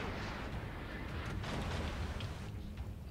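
Naval gunfire from warships in the video game World of Warships, a dense, continuous rumble of low booms and bursts running through the whole stretch at steady, heavy loudness.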